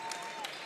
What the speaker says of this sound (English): give these girls a good round of applause